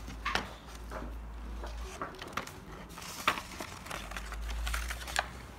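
A child cuts paper with scissors at home, producing a series of soft, uneven snips and crisp paper rustles, close and fairly quiet, with small clicks between cuts and no talking.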